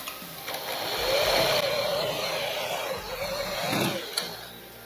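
A sewing machine stitches katori blouse fabric in steady bursts of whirring, rising and easing over a few seconds before stopping, close up, with no talk.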